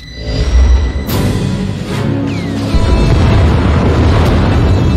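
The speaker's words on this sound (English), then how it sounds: "Enemy is firing. Turbo lasers, missiles, and what looks like transport pods." Heavy explosive blasts and booming fire from an enemy Thranta-class warship launching turbolasers and missiles in a space combat video game, loud and continuous with a sharp burst near the start and a sustained rumbling barrage.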